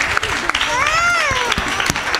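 Children's program audience at a Vedic school breaks into applause, clapping rising under a sustained sung or spoken voice, moderately loud and steady.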